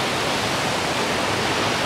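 Water pours at the bottom of Khandadhar falls in Odisha with a dense, constant, close roar. The hiss stays even throughout, with no other sounds.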